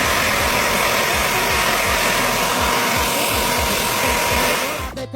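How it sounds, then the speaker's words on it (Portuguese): A homemade vacuum cleaner built from small bottles, with a filter in front of the motor, runs with a loud, steady whining roar and a fast rhythmic flutter that cuts off abruptly at the end. "Um aspirador"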